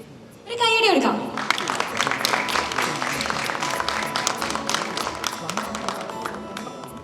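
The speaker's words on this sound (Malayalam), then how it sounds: "ഒരു കൈയടി എടുക്കാം" Applause from an audience at a film audio launch event, a dense wash of clapping that swells after a short spoken call and carries on under a voice and music.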